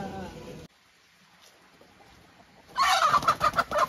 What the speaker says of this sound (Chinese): 公鸡好凶。